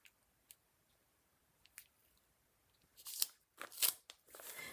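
Packing tape handled over a Southern Living magazine page: sparse faint crinkles early, then a burst of louder crackling tears and sticky peeling crunches near the end, close to the microphone with no talking.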